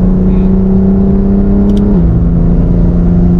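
A BMW M4 G82 rides with a steady, loud engine drone and tyre rumble, its pitch holding and then stepping down near the two-second mark as the car shifts or eases off, with no talk over it.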